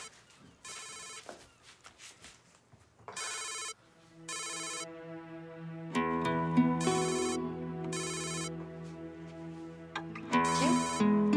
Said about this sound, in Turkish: Telefonu çalıyor, bakayım mı?